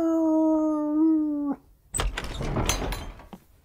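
A dog's long, steady, tonal howl in a fantasy movie holds for about a second and a half and then cuts off, followed after a short pause by a noisy burst of rustling and clattering action.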